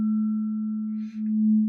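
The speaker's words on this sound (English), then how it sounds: "crystal tuning forks." A crystal tuning fork rings with a steady, pure sustained tone that holds evenly throughout, with a faint soft rustle partway through and no voices.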